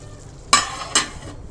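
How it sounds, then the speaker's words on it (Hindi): Mutton korma being fried and stirred in a pot, with two short scraping stirs over a quiet sizzle, close by. "तो इसको हम थोड़ा सा भून लेंगे, हिला लेंगे थोड़ा।"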